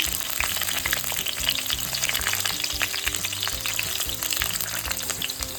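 Half a kilo of green chillies with fenugreek seeds fry in hot oil, giving a loud, dense crackling sizzle with rapid pops throughout, near and with no voices.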